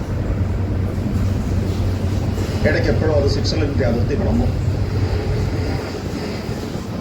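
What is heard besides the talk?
night train running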